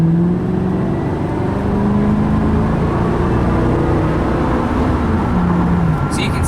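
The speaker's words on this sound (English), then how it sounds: "that was a run about half throttle to 50 miles an hour" A 2006 Ford Mustang GT convertible accelerates at half throttle to about 50 mph, heard from inside as a steady V8 engine drone and road noise with rising tones, loud and continuous throughout.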